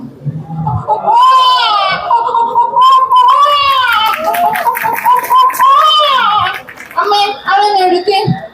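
A mimicry artist on stage voices a baby crying, a loud, continuous wailing with rising and falling pitch, broken by short breaths and ending in a few choppy sobs.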